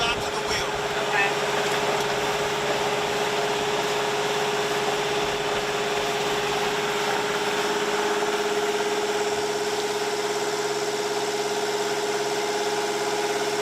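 A boat's engine runs at idle power with a steady, continuous mid-pitched drone close by, droning loudly and unchanging throughout.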